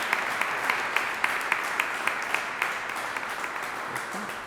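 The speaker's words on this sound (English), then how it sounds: "Let's give them a round of applause as well." A crowd claps in a steady round of applause at an outdoor Pride flag raising ceremony, dense and sustained with individual sharp claps standing out, fairly loud throughout.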